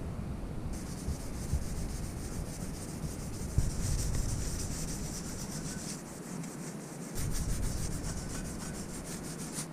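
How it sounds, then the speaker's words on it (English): Steady dry scrubbing of a Scotch-Brite abrasive pad roughing up a metal brake caliper on a BMW M2, M3 or M4 before painting, continuous close rubbing with slight shifts in pressure and no talking. "and some Scotch-Brite, and I'm going to rough this up a little bit"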